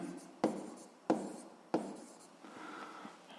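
A formula is written by hand, with three sharp pen taps and short scratchy strokes followed by a softer stretch of writing, close and quiet.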